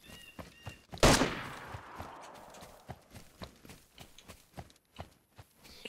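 A single loud gunshot rings out in the DayZ video game, a sharp burst followed by a fading tail, with rhythmic horse-like clip-clop footsteps continuing throughout at moderate level.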